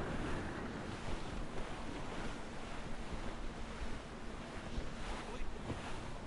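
Strong wind and crashing waves roar at sea aboard a sailing ship in the video game Assassin's Creed Rogue, a steady loud broadband wash with gusting swells and no talk.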